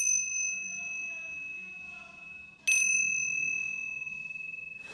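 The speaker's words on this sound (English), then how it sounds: "It's kind of more like clearing energy, and they're Tibetan bells." Tibetan bells ring twice with bright, sustained metallic tones, the first strike slowly decaying before a second clear chime sounds and lingers, close and gentle.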